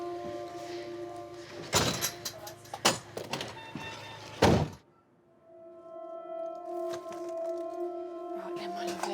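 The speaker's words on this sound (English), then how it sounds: "I'm just going to shut your doors now" Ambulance doors pushed shut at a home call: a few heavy thunks and rattling clunks close by over about four seconds, then a quieter steady engine hum with murmured voices in the background.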